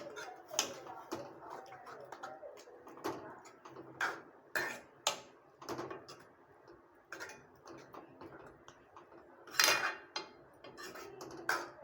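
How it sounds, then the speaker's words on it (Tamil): Cooked dal being stirred into greens in a pan for keerai kootu, giving repeated light scraping and ticking contacts of a spoon against the pan, moderately close, with no one speaking. "சேர்த்து இப்படி கிளறி விட்டுக்கோங்க."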